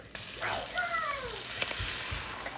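Eggs frying in a hot pan, a steady close hiss of sizzling with a faint high voice-like whine over it and small clinks from the kitchen.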